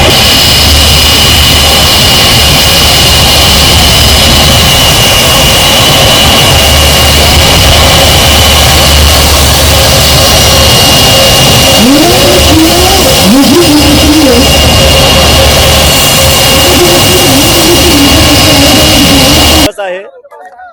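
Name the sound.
IndiGo passenger jet landing at Navi Mumbai airport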